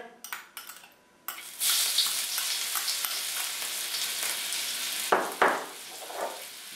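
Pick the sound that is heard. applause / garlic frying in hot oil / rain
garlic frying in hot oil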